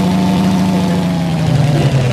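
A video-game motorbike idles steadily up close, a low, even engine drone with a slight wobble in pitch near the end and no speech over it.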